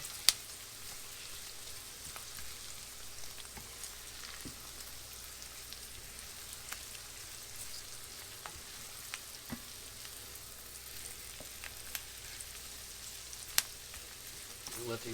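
Onions and garlic fry in a pan for salisbury steak with mushroom gravy, a faint steady sizzle with scattered small pops and crackles throughout, no talking.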